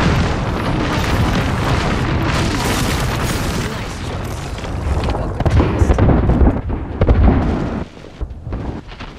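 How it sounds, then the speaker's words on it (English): An airstrike in the battle royale game Apex Legends sets off a dense, rumbling run of heavy booms and blasts that keeps going for several seconds, with voices faint underneath. "Airstrike coming."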